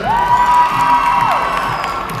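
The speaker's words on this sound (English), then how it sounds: "If it was Abram, make some noise." Crowd of children cheering and shouting at a school assembly, a sustained loud roar with a whistle-like rising tone in the first second, continuing without pause.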